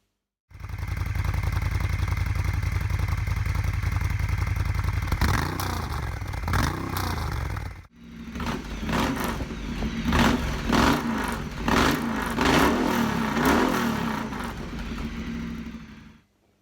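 A Moto Guzzi cafe racer motorcycle engine runs at a steady, loud idle close by, then blips and revs in several short bursts with mechanical clatter after a brief pause.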